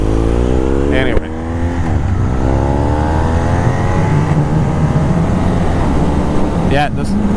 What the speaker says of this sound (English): the sound of this exhaust is a lot better.